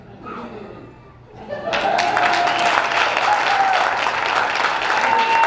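Improv show audience bursting into applause after a quieter opening with a brief voice, the clapping swelling quickly into a loud, dense wash with a few shouts, sustained to the end.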